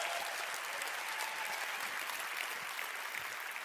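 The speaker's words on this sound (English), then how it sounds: "let's give them a big round of applause, ladies and gentlemen. Huge round of applause." Big round of audience applause from a seated crowd at a motivational event, dense even clapping sustained throughout at moderate level with no voices over it.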